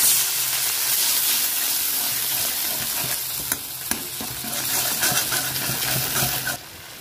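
Fried amra with sesame seeds and a splash of water being stirred in a pan, a steady loud sizzle and frying hiss with scraping stir strokes throughout, no voices.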